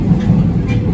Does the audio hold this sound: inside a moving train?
yes